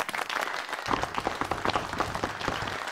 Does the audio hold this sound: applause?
yes